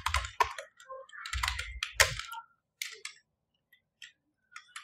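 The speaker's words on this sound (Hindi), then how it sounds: "आप फॉरेक्स सेंटिमेंट लिखेंगे गूगल पे" Keys clatter on a computer keyboard as a search about forex sentiment is typed into Google, coming in close, quick bursts of clicks separated by short pauses before trailing off into a few sparse taps.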